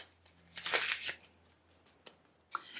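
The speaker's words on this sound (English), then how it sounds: "I'm going to shuffle these one more time." Playing cards being shuffled in a few quick riffling bursts, close and fairly quiet, followed by softer handling rustles and a final short shuffle.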